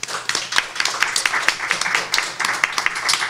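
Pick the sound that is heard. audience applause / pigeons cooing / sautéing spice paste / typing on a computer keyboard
audience applause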